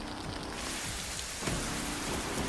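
Rain pours down in the Australian outback during a thunderstorm, a broad, loud wash with deep rumbling underneath that swells partway through; no one speaks.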